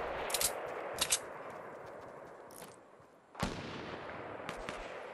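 Sniper rifle fire in Fortnite: several sharp, distant-sounding shots, some in quick doubles and one louder crack, spaced over a steady background hiss, with no talking.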